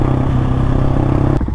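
A Husqvarna 701 motorcycle engine drones loud and steady up close while riding, then briefly dips and clatters at the very end.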